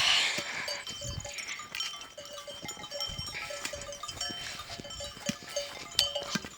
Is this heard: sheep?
yes